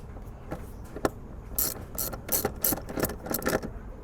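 A ratchet tightens a 10 mm bolt on a 2006 Toyota Camry with a 3.3L engine, giving quick bursts of close, crisp metallic clicking in short strokes, with no speech.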